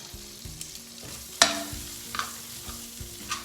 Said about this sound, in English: Just gonna saute those with a little bit of garlic powder.